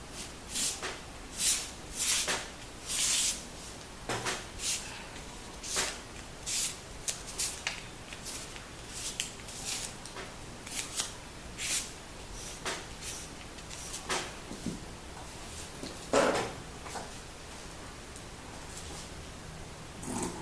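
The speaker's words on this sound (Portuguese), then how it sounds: "Vou traçar aqui com o giz e vou cortar" Chalk marking and scissors cutting through crepe bubble fabric for a blouse, heard as a series of brief scraping and snipping bursts at irregular intervals, close and fairly quiet, with no talking.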